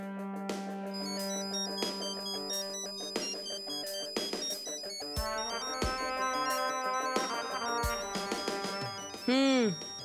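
An incoming call's phone ringtone plays a bright, repeating electronic melody with sharp tones, loud and close, alongside other sounds from a Hindi TV drama scene.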